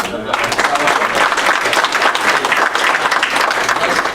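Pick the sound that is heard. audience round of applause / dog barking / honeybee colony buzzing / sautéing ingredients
audience round of applause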